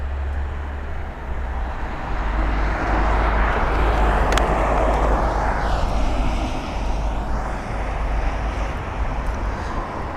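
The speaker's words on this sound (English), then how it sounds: "the Virgin Atlantic 787 is indeed parking next to the other two" A Virgin Atlantic Boeing 787 taxis to its parking stand at London Heathrow. Its engines make a steady, moderately distant rumble and whine that runs throughout with little change.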